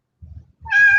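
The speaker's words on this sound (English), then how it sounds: "Sorry about the cat." A cat gives a single drawn-out meow close by in a room set up for a jewelry auction, preceded by low, soft thumps.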